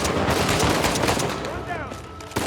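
Gunfire in the video game Uncharted 4 comes as a loud, rapid cluster of close shots that thins out toward the end before a final sharp crack.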